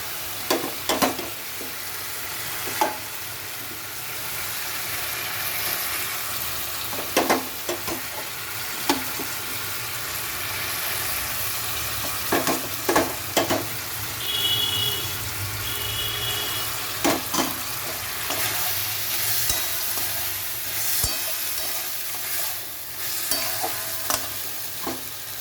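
Fried vegetables being stirred with spice paste in a pan make a continuous sizzle, with repeated scraping and clattering strokes of a spoon on the pan at an uneven rhythm.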